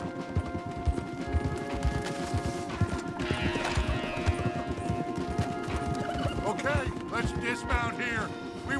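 Horses whinny and their hooves clip-clop steadily on a path in the Red Dead Redemption 2 video game, close and continuous, with neighs rising near the end and a loud crash midway.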